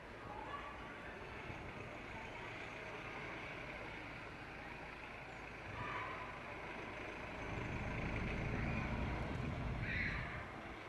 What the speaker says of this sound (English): There's a truck in the foreground coming closer to us.